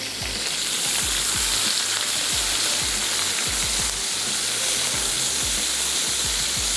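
Ginger and garlic paste fries in a pan for a prawn masala curry, giving a loud, steady sizzle with soft stirring knocks and scrapes throughout; no one speaks.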